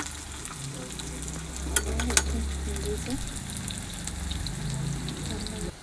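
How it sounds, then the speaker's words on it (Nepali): Onions frying in a pan on a Nepali home stove, sizzling steadily with a few sharp scrapes of stirring near the middle, under a soft voice. "चलाउँदैछु, एकछिन यसलाई चलाउनुपर्छ। एकछिन रातो हुन्जेलसम्म भुट्ने।"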